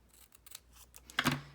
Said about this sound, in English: so I'm going to cut here